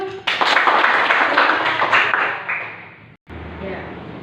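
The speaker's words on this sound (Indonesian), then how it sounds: "Beri tepuk tangan dulu" Classroom pupils clap their hands together in a dense, loud burst of applause that fades toward the end, then stops briefly before a quieter stretch of room noise.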